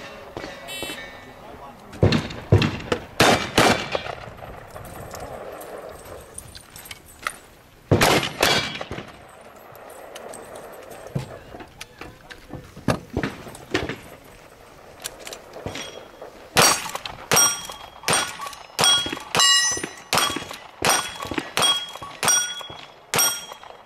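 Gunshots striking steel targets at a cowboy action shooting match in the badlands, sharp loud bangs and ringing clangs in bursts and quick rapid strings, with people talking between shots.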